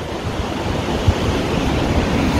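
A waterfall seen from a distance sends out a steady, even rushing hiss with no pauses and no voices.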